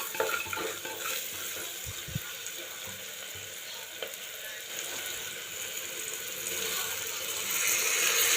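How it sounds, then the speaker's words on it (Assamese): Rice frying in a pan with vegetables and salt for a motor pulao, a steady soft sizzle and light stirring scrapes running throughout, growing slightly louder toward the end, with no voices. "এনেকৈ 5 মিনিটমান এনেকৈ ভাজিব লাগিব চাউলটো।"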